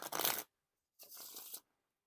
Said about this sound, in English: Now time for the Riffle Shuffle or Bridge Shuffle.